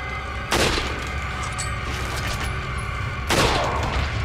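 A sniper rifle fires two sharp, loud shots about three seconds apart in the video game Resident Evil 4 (2022 remake on PS5), over steady in-game ambient noise.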